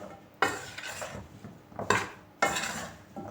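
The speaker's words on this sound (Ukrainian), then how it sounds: "І перемішуємо з крохмалем." Sliced firm pears being stirred with starch in a bowl for a pear pie, giving three loud scraping, clattering strokes of a utensil against the bowl with short gaps between, close and alone with no talking.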